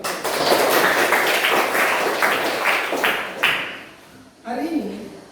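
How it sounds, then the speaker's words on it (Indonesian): Classroom pupils clap their hands together in rhythmic bursts, loud and close, for several seconds before trailing off; a voice speaks briefly at the end. "Tepuk tangan."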